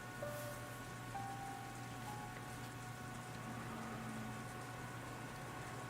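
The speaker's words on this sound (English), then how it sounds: "the sound of the rain sneaking into the dining hall" Steady rain on a surface in the When They Cry video game, a continuous soft hiss that runs alone and without a break under faint low tonal music.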